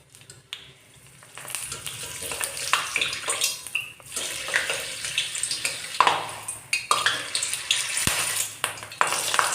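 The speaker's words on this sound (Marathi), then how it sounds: "तर आता हिरव्या मिरच्या आधी आपण तळून घेऊ" Green chillies frying in hot oil, a steady broadband sizzle with bubbling and spattering that swells after a quieter start and continues close and fairly loud, with occasional sharper crackles.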